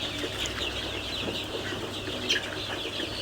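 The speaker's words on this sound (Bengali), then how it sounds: "এগুলো অরিজিনাল মিশরি ফার্মি মুরগির বাচ্চা এবং টাইগার মুরগির বাচ্চা" Young Egyptian and tiger breed chicks and chickens on a small home poultry farm give steady, fairly faint chirping and clucking, with occasional wing flutters and no talking.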